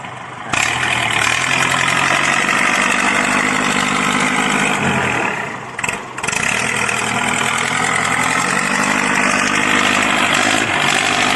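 A Kubota diesel tractor engine with an open straight-pipe exhaust runs steadily and loudly, with a brief dip in the middle before the steady roar resumes.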